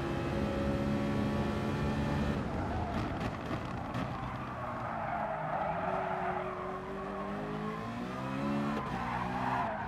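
Tires squeal and skid as a race car spins out in Gran Turismo Sport, a long wavering screech over steady engine drone, loud and close, with no talking.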